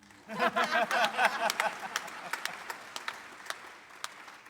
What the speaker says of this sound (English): we're going to clap for her again